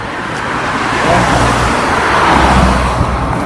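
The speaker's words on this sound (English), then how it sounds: "when this car passes, this Mercedes, this black one" A black Mercedes car passes along a road near a traffic island, its steady tyre and engine rush swelling and fading over about three seconds amid broadband road noise.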